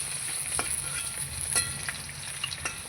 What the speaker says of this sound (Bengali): এই যে মাথাগুলো ভাজা হয়ে গেছে লাল লাল করে ভেজে নিয়েছি